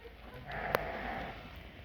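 A sheep at a livestock sale gives one faint bleat amid quiet farm background noise.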